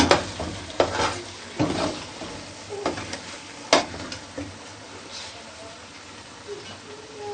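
Bread halwa fries in oil in a pan while a spoon stirs and scrapes it in irregular strokes over a soft, constant sizzle, with occasional knocks against the pan.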